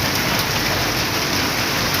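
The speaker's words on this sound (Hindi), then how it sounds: "ये देखें हम बारिश में खड़े हैं, बारिश बहुत तेज़ हो रही है।" Heavy monsoon rain pours off a shop roof in a dense, loud, continuous hiss of water hitting the ground close by, with no pauses and no voices.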